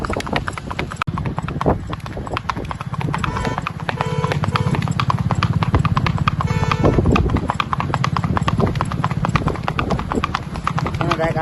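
Hooves of a mare named Mena clip-clop steadily along a road in a quick, even rhythm. People talk over them throughout, with a brief whinny possible.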